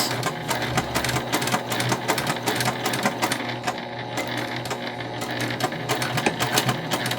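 Sewing machine stitching a cotton tote bag, a fast rapid-fire run of needle clatter at an even rhythm, close and fairly quiet, with a brief slowdown midway before resuming.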